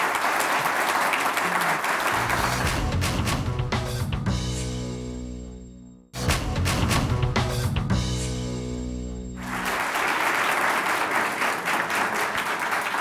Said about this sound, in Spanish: Un aplauso para la candidata